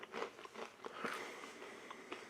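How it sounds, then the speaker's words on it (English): Crunchy MRE pretzel sticks from a U.S. Menu No. 9 beef stew ration are bitten and chewed close to the mic, giving a few quiet crisp crunches in irregular rhythm. "Try a couple of little pretzel sticks."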